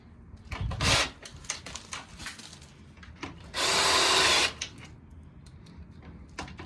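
A drill drives screws to reattach door hinges, two short buzzing bursts, the second longer, set among scattered clicks, taps and handling knocks close by.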